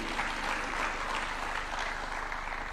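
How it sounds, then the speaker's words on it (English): Sustained audience applause at a university innovation hub launch, a dense even wash of many hands clapping at steady loudness throughout, with faint voices beneath. "Another clap for him, even if just for the Swahili"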